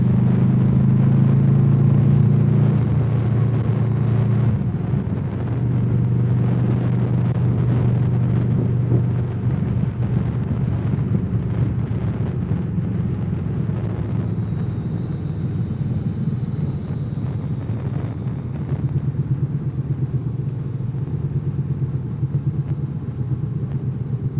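A septic truck's diesel engine runs steadily nearby, its low rumbling drone holding constant with no voices over it.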